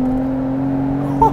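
Steady droning engine of a Rezvani Tank SUV heard from inside while driving, with a constant low hum and a faint whine and no talking.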